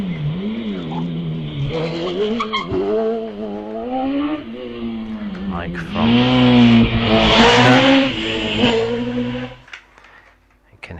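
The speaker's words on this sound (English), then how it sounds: "you can hear the engine working hard" The self-built Storm racing car's engine revs hard and climbs through gears as it launches off the line at a hillclimb start, loud and close, with a voice faintly under it.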